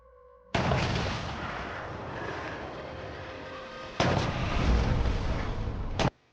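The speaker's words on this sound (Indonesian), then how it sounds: "Lalu suara tembakan berdengar" Gunfire in a war film, set among concrete rubble with a German sniper firing from a tower: a loud sustained burst of shots with a second heavy volley near the end, ending abruptly.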